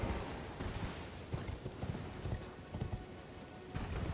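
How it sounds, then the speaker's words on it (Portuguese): Horse hooves in Elden Ring clip-clop in a quick, steady gallop, close and rhythmic, over a low ambient rumble with no talking. "Deixa eu pegar o cavalo aqui para agilizar."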